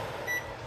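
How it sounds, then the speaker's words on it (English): A single short electronic beep from a food warmer's or microwave oven's control panel sounds once, mid-clip, above a steady low hum of background noise. "they tell you to hold the 2 button to make it not be beeping"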